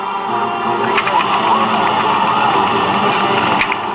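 A Time Crisis 4 arcade machine gun under repair gives off a steady mechanical buzz from its recoil mechanism. The rattling hum is loud and close and holds for the whole stretch.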